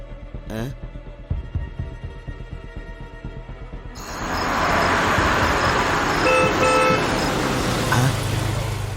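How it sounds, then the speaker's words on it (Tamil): A car drives up and arrives, a steady engine hum and rumble swelling in after a quieter stretch and holding close, with a brief horn-like tone near the end. "கார் வந்துருச்சு."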